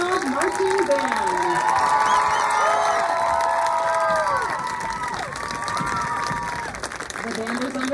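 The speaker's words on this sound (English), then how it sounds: "another round of applause for the Bulldog Marching Band" Crowd at a marching band competition applauds and cheers for a school marching band, a sustained roar of clapping, shouting and whoops with voices calling out, steady throughout.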